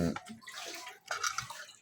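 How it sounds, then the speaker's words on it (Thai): Water poured into a cooking pot while preparing a Thai home-cooked dish, a continuous splashing trickle close by, rising and falling in strength with a brief pause midway. "ใส่น้ำหน่อยนึงอีกเนาะ"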